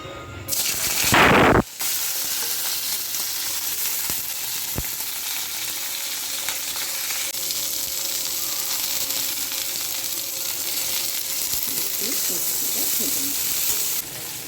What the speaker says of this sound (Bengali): এবার আমি ফুলকপিটা ভেজে নেব